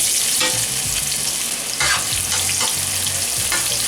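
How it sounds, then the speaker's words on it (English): Two medium chopped onions sizzle in hot coconut oil in a pan on high heat, a loud steady frying hiss broken by repeated scraping stirs, with no voices. "The oil is now hot, and I'm going to put 2 medium onions chopped small"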